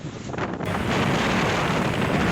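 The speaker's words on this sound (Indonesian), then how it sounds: "Puluhan rumah dilaporkan rusak akibat diterjang angin puting beliung" A tornado-like whirlwind tearing through a residential neighborhood in Imogiri, Bantul, Yogyakarta, heard as a loud, continuous roar of wind buffeting the microphone, with no voices.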